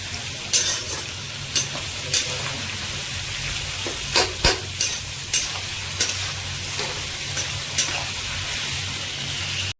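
Onions with salt frying in a pan for mutton masala curry, a steady close sizzle broken by regular scraping stirs of a spoon, with no talking.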